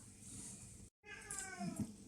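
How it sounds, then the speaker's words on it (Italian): A house cat near a kitchen table meows faintly in the background, a short, thin call that comes after a brief break in a low steady hiss. "Anche il gatto vorrebbe venire sul tavolo, ma non penso proprio"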